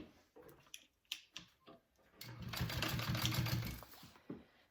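Quiet clicks and taps of handling give way to a short run of a sewing machine top stitching a bowler bag panel, a close, even burst of mechanical whirring lasting about two seconds before stopping.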